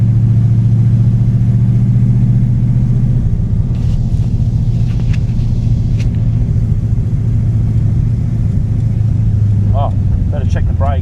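A Plymouth Valiant hardtop drives along, its engine holding a steady low rumble throughout with a slight shift in tone partway, loud and close, with a few faint clicks and squeaks over the top.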